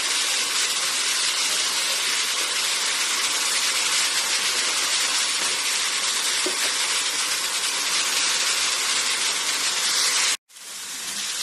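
Red amaranth and water spinach greens sizzling in an open pan, a steady close hiss of frying that runs unbroken, then cuts off abruptly near the end.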